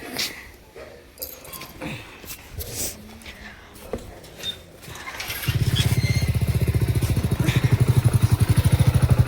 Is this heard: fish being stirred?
no